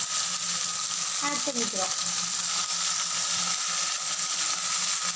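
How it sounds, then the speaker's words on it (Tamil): Chicken frying in a pan with onion and green chilli, a steady, continuous sizzle throughout, with a brief burst of stirring scrapes near the start and a soft voice speaking over the cooking. "இப்போ வந்து இந்த எடுத்து வச்சுருக்க சிக்கனை நம்ம இதில்"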